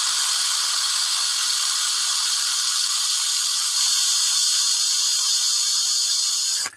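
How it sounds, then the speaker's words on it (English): A cheap, low-quality power drill runs continuously for pinning a small model, a steady high-pitched whine with rattly overtones that cuts off abruptly at the end. "Not a very good drill, but a crappy drill is just what she ordered for quick pinning."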